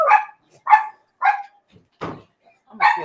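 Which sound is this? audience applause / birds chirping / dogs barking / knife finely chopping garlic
dogs barking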